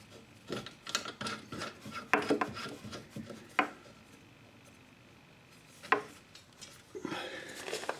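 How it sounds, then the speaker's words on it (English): A basin wrench tightening the nut on a traditional basin tap, scattered metallic scraping and ratcheting bursts at close range with quiet gaps between them. "I'm now going to push the nut up and then I'm going to tighten up the nut"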